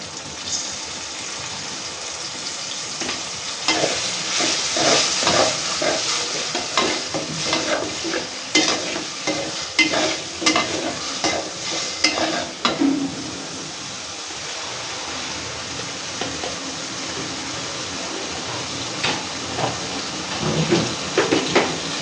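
Ginger garlic paste sizzles in a hot pan and is stirred vigorously, with scraping and rustling strokes of the spoon running continuously and fairly loud, with almost no talking.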